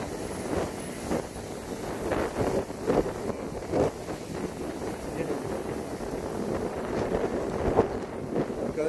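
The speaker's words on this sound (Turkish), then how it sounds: "Arkadaşlar acayip fırtına esiyor." Strong gusty storm wind roars across the microphone while people talk underneath, in January in Antalya, Turkey.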